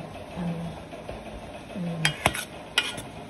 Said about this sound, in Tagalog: i-mix natin dito yung paghalong harina, breading mix, paminta